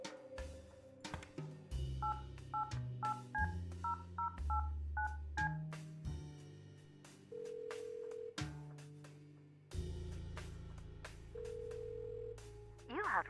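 Touch-tone beeps of a phone number being dialed into a numeric pager system in the video game Kathy Rain 2, a quick run of evenly spaced electronic tones followed by longer steady telephone tones, clean and close over a quiet musical background.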